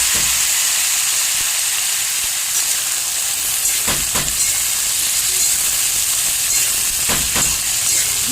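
Small cut potato pieces frying in oil give a steady, loud, close sizzle that runs throughout, with a few brief crackling bursts standing out.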